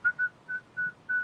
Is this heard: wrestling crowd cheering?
no